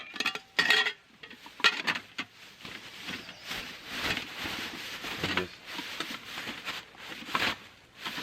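Metal tongs clinking and scraping into a soot-blackened camp pan outdoors by a lake, with light uneven rattles and taps at close range, fairly quiet.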